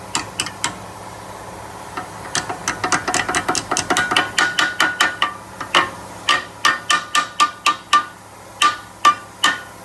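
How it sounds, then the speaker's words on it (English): A small hammer taps brake caliper parts on a 2007 Jeep Commander during rear brake pad replacement, a run of sharp metallic knocks, sparse at first, then quick steady strikes, then slower spaced taps, close and loud. "Old baby hammer."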